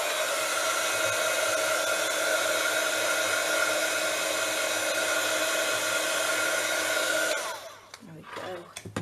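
Heat tool blowing to dry gesso on recycled craft packaging, a steady loud whirring blast held for about seven seconds before it switches off and fades into quiet handling noises.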